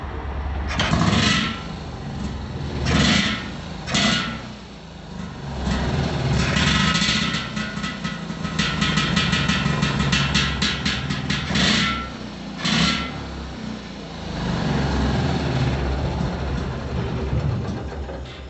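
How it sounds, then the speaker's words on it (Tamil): A modified Yamaha RX100 motorcycle engine runs loud and close, its raspy two-stroke note rising and falling through repeated throttle blips with choppy bursts. "அடுத்து இந்த வண்டியோட பீட்டை கேட்கலாம் வாங்க."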